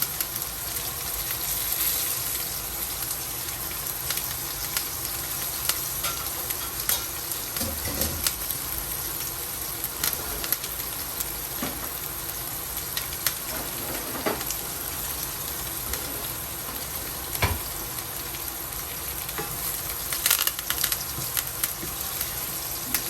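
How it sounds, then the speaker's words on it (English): Butter and garlic sizzling in a pan alongside a T-bone steak, a steady crackling fry with scattered pops and occasional clinks, close and continuous. "you're hearing the garlic is cracking here"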